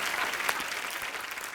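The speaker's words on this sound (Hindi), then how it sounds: "इन फिरंगी लड़कियों के लिए जोरदार तालियां।" Studio audience applause on a Hindi television comedy show, a bright, even burst of many hands clapping at moderate level, steady from start to finish.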